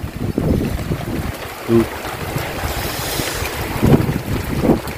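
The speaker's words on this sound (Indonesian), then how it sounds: "Hujan angin." Strong wind and heavy rain lash a hut in the forest, a loud continuous roar of gusts and downpour with rumbling buffets, while someone speaks a brief word over it.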